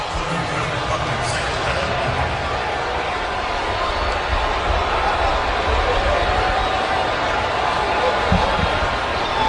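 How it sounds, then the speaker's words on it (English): A football stadium crowd at an NFL game between the Los Angeles Rams and Baltimore Ravens, a dense, steady roar of thousands of voices that holds at a loud level throughout. "Listen to this crowd."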